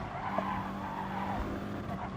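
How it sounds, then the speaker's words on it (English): A small, light, short-wheelbase race car in a GTTCC Elite championship race squeals its tyres in a steady, loud skid over the engine's continuous roar, with no pauses. "you can hear the tyre squeal"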